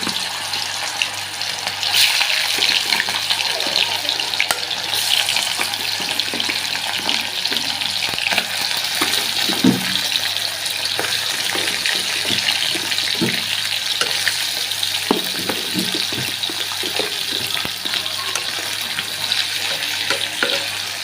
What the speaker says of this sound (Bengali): প্রথমে লাল লাল করে ভেজে নেব